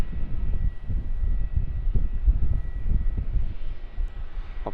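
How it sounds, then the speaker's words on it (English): A Qantas Freight Airbus A321-200 lands at Melbourne Airport, a low, rumbling jet roar heard from a distance with wind buffeting the microphone. "Qantas Airbus"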